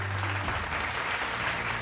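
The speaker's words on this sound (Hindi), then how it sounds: "एक बार फिर से जोरदार तालियां हमारे सभी स्पॉन्सर्स के लिए" Audience at the Marwar Ratna 2024 award ceremony gives the sponsors a steady, full round of applause, continuous and even throughout with no talking over it.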